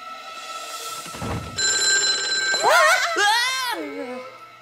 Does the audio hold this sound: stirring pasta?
no